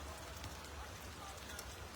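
Light drizzle falls over the village of Sikhwala in Lambi block, a faint, steady patter of drops on surfaces with no clear speech.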